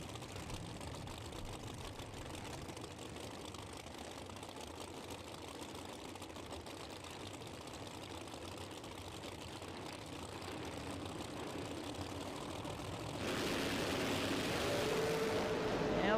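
A blue and white striped Camaro doorslammer drag car with a naturally aspirated 900-plus cubic inch engine at a drag strip: a faint, distant engine rumble that swells abruptly louder near the end.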